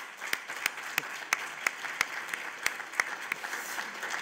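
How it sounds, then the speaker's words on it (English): A small audience applauds, with individual claps ringing out in a steady, fairly regular rhythm over a soft wash of clapping. "we need to give him a round of applause"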